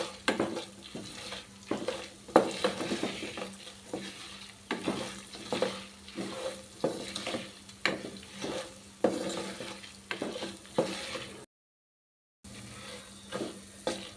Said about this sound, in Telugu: ధనియాలు అలాగే జీలకర్ర ఇదంతా కూడా చక్కగా ఆయిల్లో ఇలా ఫ్రై చేసుకున్నాం.